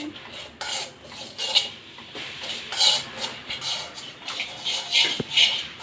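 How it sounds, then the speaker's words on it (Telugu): Poppy seeds frying dry in a pan for Telugu-style fish curry, with a metal spoon clattering and scraping against the pan in repeated stirring strokes over a faint sizzle. "ఫస్ట్ అయితే గసగసాలు అయితే ఫ్రై చేసుకోవాలి ఫ్రై చేసుకోవాలి"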